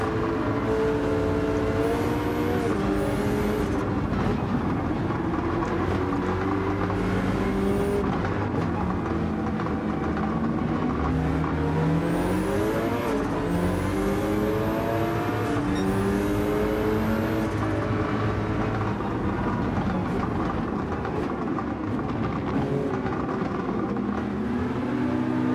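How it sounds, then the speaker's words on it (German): A Dodge Viper race car in the Gran Turismo racing game drifts. Its engine roars and revs continuously at high pitch, rising and falling through gear changes, loud and steady throughout with no voices. "da hat die Viper aber einen Drift hingelegt"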